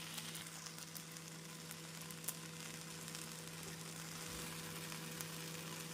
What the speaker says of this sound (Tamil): நாம் திருப்பி போட்டு சிறிது எண்ணெய் ஊற்றி மிதமான தீயில் 1 நிமிடம் வைத்து எடுத்து விடலாம்.